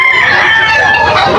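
A stag rooster crows loudly and close at a busy chicken market in Bocaue, Bulacan, its long harmonic call spanning the whole moment over a dense crowd murmur and other fowl.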